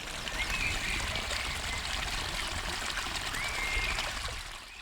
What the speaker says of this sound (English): I am hoping that you will be able to hear the sound of the water splashing down this rill.